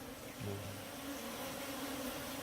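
African honey bees (Apis scutellata) buzzing at a hive, a dense, continuous hum of many insects close by with one louder bee whining past near the microphone; no talking.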